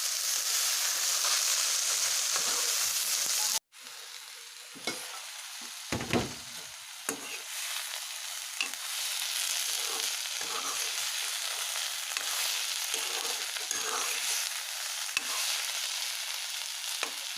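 Banana stem bhaji frying in a pan, a steady loud sizzle with intermittent scraping stirs, briefly cut near the start and then resuming at a slightly lower level.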